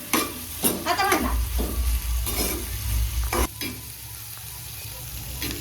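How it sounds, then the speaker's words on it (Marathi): Bombay duck fish sizzles and crackles as it fries with turmeric and salt in an iron kadai, with a few sharp stirring scrapes over a steady close hiss. "ते बोंबील ह्याच्यामध्ये फ्राय करायला घेतलेत."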